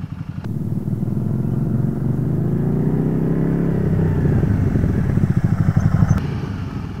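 A Can-Am Spyder three-wheeled motorcycle rolls at about 20 mph with its engine running steadily and evenly, easing off the throttle under gradual braking, close by, with a rough low rumble and no talk.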